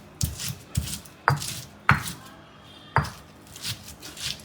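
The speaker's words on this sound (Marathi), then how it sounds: "सुरुवातीला हा कांदा या साऱ्या धने जिरेमध्ये स्मॅश करून घेतला ना आपण" Onion, garlic, cumin and coriander seeds pounded in a mortar, six or seven sharp thuds at an uneven pace, close and clear with grinding scrapes between strikes.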